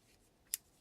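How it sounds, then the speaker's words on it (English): Closed scissors scraped along a paper edge to distress it for a card project, one short sharp rasp standing out against near silence. "you're just going to get your scissors closed, and we're going to rough the edge up like so"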